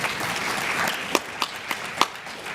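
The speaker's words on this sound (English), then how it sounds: "You can give them some applause." An audience at a national patient meeting general session gives a round of applause, a dense wash of many clapping hands that fades while a few louder claps stand out near the end.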